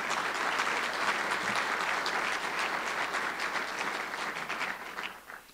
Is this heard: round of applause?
yes